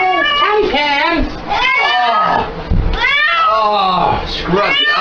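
A cat meowing and yowling loudly in a series of drawn-out, wavering cries while being scrubbed in a shower, close up, with a person's voice mixed in.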